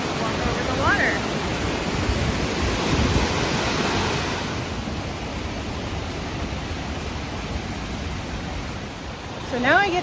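Rushing water from a stream in the outdoors near Leavenworth, WA, a loud, steady broadband wash that fills the whole clip, with wind buffeting and brief talk near the start and end.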